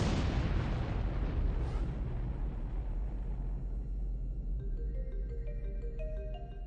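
Big Bang explosion sound effect: a massive deep boom that rolls and slowly fades, giving way to soft tonal musical notes toward the end.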